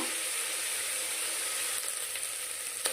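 Ginger garlic paste sizzles and fries steadily in a pan for paneer biryani, a continuous close, even hiss with a couple of faint clicks near the end.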